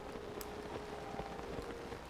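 Soft, steady rainfall pattering across the landscape in Zelda: Tears of the Kingdom, a faint continuous patter with scattered light drops and no voices.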